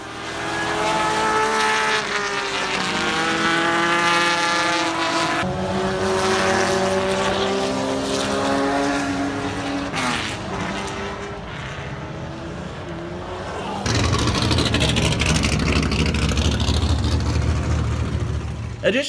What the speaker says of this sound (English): And their owners are racing these cars full out to win.